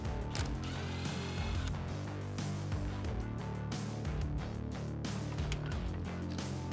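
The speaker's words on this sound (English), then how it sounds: "I'm gonna use a 10mm socket to remove this nut on the positive terminal." A 10mm socket ratchet loosening the nut on the positive battery terminal of a 2009-2018 RAM 1500, heard as a loud, close, continuous ratcheting clatter in a fast, steady rhythm.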